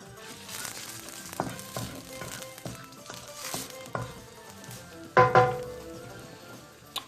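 Garlic and onion frying in a pan for a meatless chili, a soft steady sizzle with light clinks and stirring taps, then a couple of louder clatters near the end.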